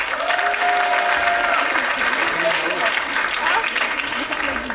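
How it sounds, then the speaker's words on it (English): A workshop audience applauds steadily throughout, dense clapping sustained at moderate loudness with a faint voice briefly heard beneath it. "Give a big round of applause to Ira."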